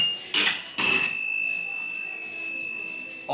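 Quiz buzzers in a classroom quiz being tested before the buzzer round: two short sharp bursts, then a sustained electronic tone that rings on, with another burst at the end.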